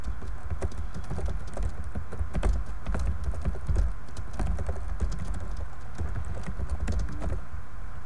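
Fast typing on a computer keyboard during a Nitro Type race, a dense, continuous patter of clicking keystrokes close to the microphone at an even, rapid rhythm.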